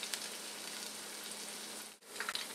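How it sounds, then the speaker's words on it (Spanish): Stuffed squash blossoms fry in hot oil with a soft, even, continuous sizzle at low level, a brief dip near the end, then bubbling resumes; no voices. "Elimino el exceso y muy cuidadosamente lo pongo en el aceite"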